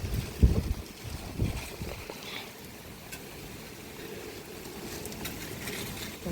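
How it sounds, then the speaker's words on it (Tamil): Strong wind gusting through an open farm field of corn during heavy rain, a broad steady rush with louder buffeting bursts early on, close to the microphone. "அப்படியே காற்றோட சாரெல்லாம் அடிச்சிட்டு இருக்கு."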